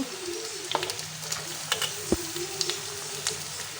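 Onions fry in a pan, giving off a soft, steady sizzle broken by a few small pops and crackles, close and fairly quiet with no voices.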